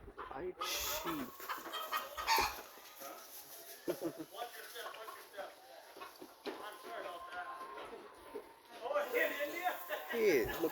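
On a livestock farm, chickens cluck intermittently at close range over rustling and background farm noise. Someone speaks in places.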